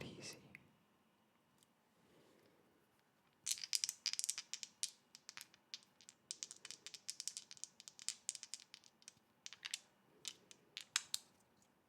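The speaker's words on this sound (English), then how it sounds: "The sound was playing dice." Dice rattle and clatter in close, crisp bursts of tumbling clicks, repeated shakes and rolls for several seconds after a quiet start with a faint murmur of voice.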